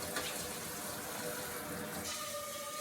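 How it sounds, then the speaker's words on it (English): Tap water runs steadily into a cooking pot being filled to boil macaroni, giving a continuous close splashing rush. "Rinse it out real good. And I'll put cold water."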